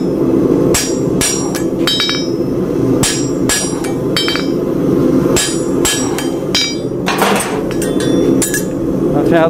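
A hot iron horseshoe is hammered at a forge with repeated loud, ringing metallic strikes at an uneven rhythm, close and sharp over a constant background roar.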